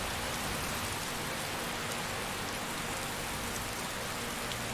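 Steady rain in the video game Skyrim, a dense, even hiss of falling drops that stays constant and fairly soft for the whole stretch, with no other sounds.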